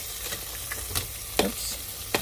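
Pork ribs being turned over in an air fryer basket give a few scattered clinks and scrapes over a steady sizzling hiss, close by, with no talking.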